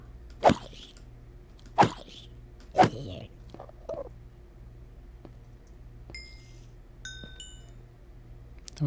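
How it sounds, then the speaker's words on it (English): Enderman noises in the Minecraft video game, three sharp warbling cries at intervals followed by faint chiming tones, against a low steady hum. "Oh, it is an Enderman."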